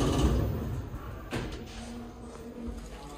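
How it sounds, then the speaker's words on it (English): Kleemann lift doors in Norwich Cathedral slide open with a soft mechanical rumble and a short clunk partway through, heard close up over low machinery hum. "Doors opening."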